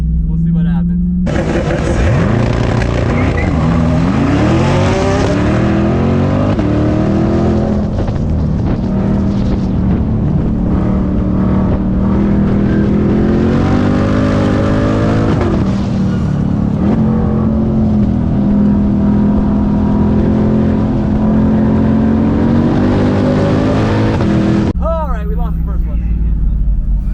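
At a spectator drag strip, a C8 Corvette launches against an all-wheel-drive car. Loud engine roar climbs steadily through revs for about twenty seconds, with voices mixed in, then cuts off abruptly.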